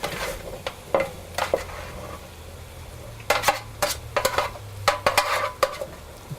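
Cooked butternut squash is dumped and stirred into a pot on a stovetop, with scraping, clattering spoon-on-pot knocks and soft plops in irregular bursts, close and fairly quiet.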